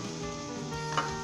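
Onions going into a hot frying pan for capsicum chilli chicken, giving a steady close sizzle with a brief clatter near the end and no talking.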